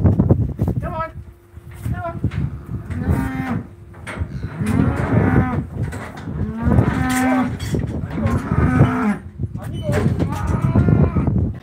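Cattle moo loudly and repeatedly at a hoof trimming crush, with long drawn-out calls close by and people's voices mixed in.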